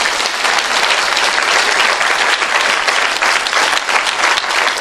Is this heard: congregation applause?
yes